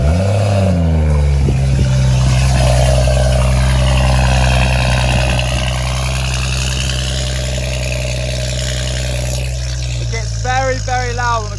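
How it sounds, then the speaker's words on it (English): BMW M135i with a 400+ bhp engine cold-starting: a loud, steady high idle drones close up throughout, with a few brief revs near the end and no talking. "one of the many aspects I'm going to miss on this car is the stonking cold start on this thing"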